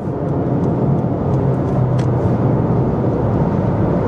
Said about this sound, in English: under heavier accelerations, the 2-liter 4-cylinder is gasping for air